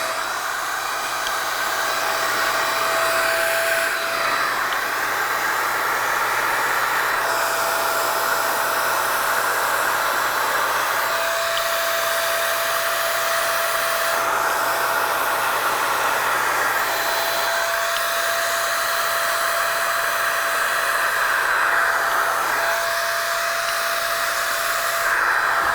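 Paint sprayer running continuously while painting a brick house, a loud steady whirring hiss with brief dips and surges as the spray nozzle is worked, no talk over it.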